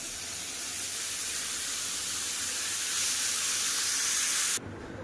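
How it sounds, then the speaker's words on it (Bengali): A loud, steady hiss of hot water poured onto fried rice in a hot pan, rising slightly before cutting off abruptly near the end. "এবার এখানে দিয়ে দেবো গরম জল।"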